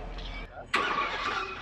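Classic car at the Villa d'Este concours d'elegance fires up: a short whirring crank, then the engine catches with a sudden loud burst and settles into a steady rough idle, close by.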